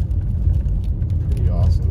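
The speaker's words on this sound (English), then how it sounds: "Driving over the dam right now." A car drives across a dam during a snowstorm at Big Bear, its engine and tyre rumble a steady low drone from inside the cabin.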